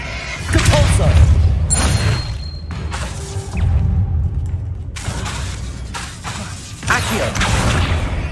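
A Depulso spell is cast in Hogwarts Legacy, giving loud whooshing magical blasts with deep booming thuds and crashing impacts in bursts over game ambience.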